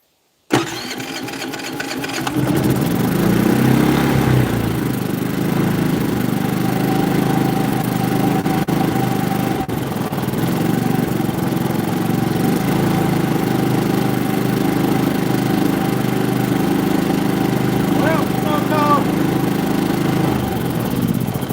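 A generator engine cranks briefly, catches and settles into a steady, loud running drone that holds for the rest of the stretch, with no talk over it.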